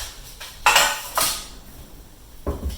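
Two nine-inch metal cake pans are handled in a kitchen while baking a chocolate cake, giving a few sharp clanks and clatters spaced over a couple of seconds, close by and without speech.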